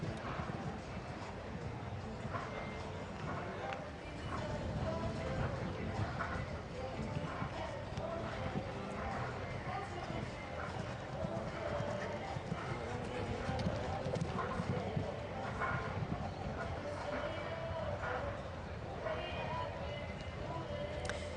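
Hooves of a ten-year-old Dutch-bred show jumper cantering at increasing pace around a CSI 5* 1.40 m course, a steady rhythmic clip-clop under continuous commentary and arena ambience.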